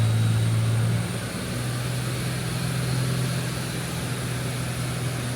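A turbocharged Barra engine car runs on a dyno with a steady, loud low drone throughout, easing slightly after the first second and holding a constant tone without boost.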